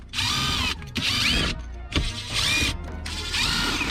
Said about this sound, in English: on the TT that means unscrewing a lot of these screws